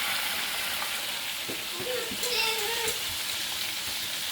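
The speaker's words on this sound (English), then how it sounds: "This is a little butter I had melted from earlier today. Just gonna add it to the oil." Pieces of fish sizzle and hiss steadily in hot oil as melted butter is poured in, with a faint bubbling crackle close by.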